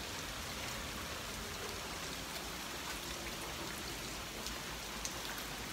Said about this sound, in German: Heute ist ein wunderschönes Regenwetter